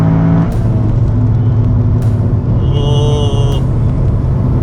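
A Toyota GR Yaris on Michelin PS4S tyres at the Sepang circuit holds a steady, loud engine drone at near-full throttle mid-corner, with brief higher whines over the continuous roar.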